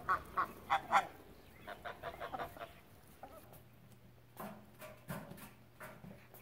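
Ducks kept for sale, adults and ducklings, quack in a quick cluster of loud calls at the start, followed by scattered softer quacks and honks over a faint low background hum.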